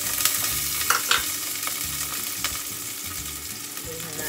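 Sliced onion added to a hot pan with garlic already in it, giving a steady close frying sizzle with a few scraping stirs and clinks against the pan.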